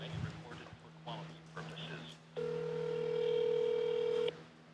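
An outgoing telephone call produces a steady ringback tone lasting about two seconds after brief dialing beeps, with a person talking quietly at the start.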